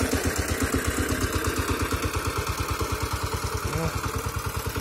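A Kentavr walk-behind tractor engine chugs steadily at close range while tilling mustard into the soil, its rapid regular firing pulses continuous and loud throughout, with no talk over it.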